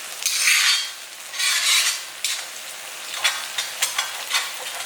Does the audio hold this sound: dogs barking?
no